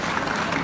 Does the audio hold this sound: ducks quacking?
no